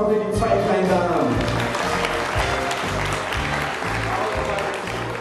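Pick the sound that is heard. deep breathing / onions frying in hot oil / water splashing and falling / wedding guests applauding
wedding guests applauding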